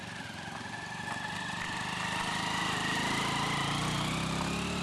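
A steady motor engine drones continuously at close range, holding an even idle-like hum with a slight rise in intensity partway through.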